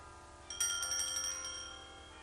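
Church bells ring in the distance, starting after a brief quiet moment and carrying on as a steady wash of overlapping bell tones, soft and far away with no voices.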